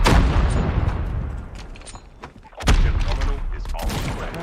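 Explosions and gunfire in the mobile game Call of Duty Mobile, a loud burst of blasts and rapid shots, then a brief lull before another heavy boom and more firing.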